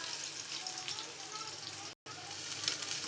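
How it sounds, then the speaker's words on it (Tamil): Onions hitting hot oil in a pan as prawn thokku begins, giving a steady, dense sizzle that runs unbroken apart from one short cut, with no voice heard over it. "ஆயில் சூடாச்சு, நம்ம வெங்காயத்தை போட்டுடலாம்."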